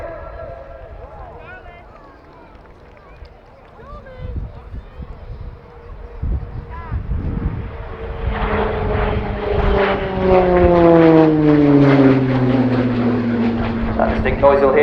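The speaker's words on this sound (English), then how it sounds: "That distinct noise you'll hear throughout the display is the uprated Garrett TPE turboprop engine fitted to the RAF Tucano" An RAF Shorts Tucano with an uprated Garrett TPE turboprop engine builds from a distant drone to a loud, close, whining roar with a falling pitch as it passes during a display flight at RIAT 2019, with commentary over it.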